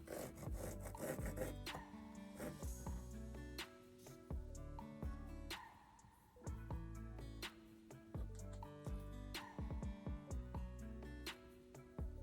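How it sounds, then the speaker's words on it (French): A jigsaw rasps through plywood in repeated bursts, starting and stopping several times, with short pauses between cutting strokes. "La scie sauteuse, c'était la première fois que j'allais l'utiliser."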